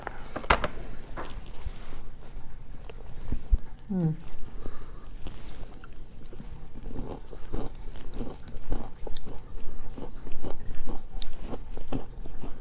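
Aldi keto clusters crunch in a mouth with sharp bites and chewing, loud and close, mixed with scattered rustles and a person talking.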